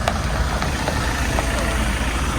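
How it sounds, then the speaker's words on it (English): A motorbike engine drones past on a road at moderate distance from a building site, a continuous low rumble filling the background throughout. "that's a motorbike going down the road"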